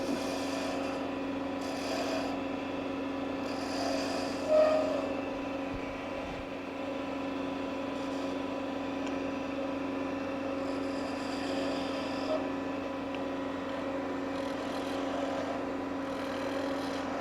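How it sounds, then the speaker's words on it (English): Wood lathe cutting a tenon on a turned letter holder blank, a steady close rasping scrape of the tool against spinning wood over a constant motor hum, with no talk. "Going in and cut my tenon first."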